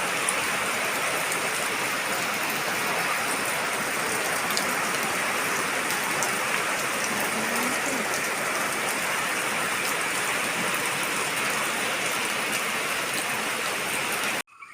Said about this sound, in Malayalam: പിന്നെ ഉച്ച കഴിഞ്ഞപ്പോഴത്തേക്ക് നല്ല മഴയായിരുന്നു കേട്ടോ, നല്ല കാറ്റും മഴയായിരുന്നു